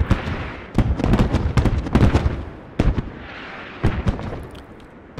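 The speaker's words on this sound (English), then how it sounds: "Here comes the smoke barrage, and it lands everywhere." Artillery smoke shells from a barrage in the game Squad land in a rapid series of sharp, loud booming impacts, some clustered, others spaced out, with rumbling between hits.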